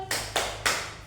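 A classroom group does a tepuk salut clap, three loud, sharp rhythmic bursts of clapping with brief gaps between them, close by.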